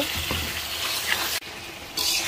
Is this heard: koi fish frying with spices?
yes